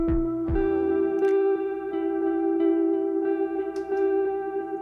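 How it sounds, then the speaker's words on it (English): A synthesized tone run through a tape echo effect in Ableton, a sustained bright note with repeating delayed attacks and a warbling, smeared tail that rings on steadily without any voices. "So there's your tape echo sound"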